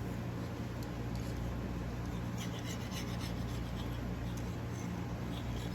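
A small hand scraper rasps along the edge of an epee fencing blade to remove excess glue, giving a steady, close, continuous scraping rub with no talk.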